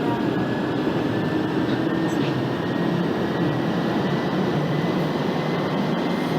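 A London Underground Central Line train rumbles steadily in the Open BVE simulator, with a continuous loud roar of wheels and motors and a thin high flange whine running alongside.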